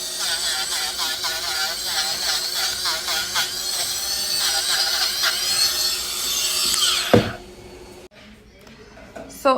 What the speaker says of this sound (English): you want to keep the Dremel moving